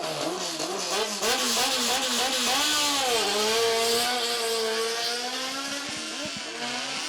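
The BMW 2000 engine of a Martini MK32 race car screams as it launches at a hillclimb, revving hard through rising and falling pitch sweeps, loud and close.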